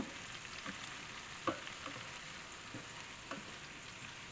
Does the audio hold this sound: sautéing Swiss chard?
yes